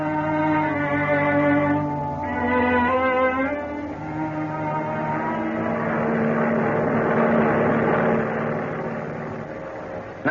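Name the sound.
transport airplane flying at high speed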